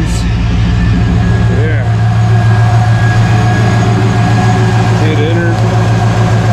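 A car engine idles with the alternator loaded by the water pump, fan and high beams, a loud steady low hum and drone that runs throughout while someone speaks briefly over it.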